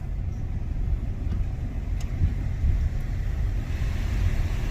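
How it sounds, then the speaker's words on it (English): Car driving through a tunnel, a steady low road rumble and engine drone filling the cabin without a break. "in the car with Nebo, heading through the tunnel, heading up to Vane Mountain."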